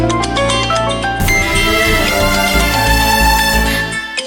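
A mobile phone rings with an incoming call during an indoor Tamil TV serial scene: a loud, continuous melodic ringtone of bright chiming notes over a steady, bass-heavy musical backing, with no one speaking.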